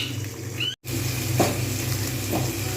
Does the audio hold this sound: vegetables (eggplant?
yes